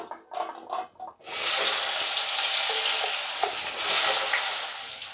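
A few clattering knocks, then cumin seeds and potatoes drop into hot oil and burst into a loud, sudden sizzle that holds steady and close, with light stirring scrapes.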